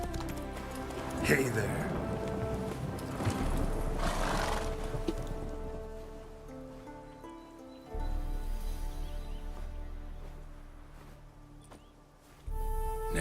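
The horse Roach gallops in a video game with rhythmic hoofbeats and a whinny, mixed under game dialogue and game music.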